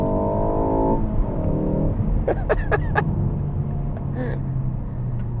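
A Ford Focus ST hatchback drives along a road, its engine droning steadily at close range with in-cabin road rumble, while someone talks and whoops over the sound.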